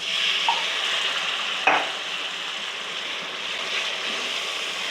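Water poured into a pot of cooking chickpeas for a chole recipe, giving a steady sizzling, hissing wash with one sharp splash near the middle, close and fairly loud, no talking.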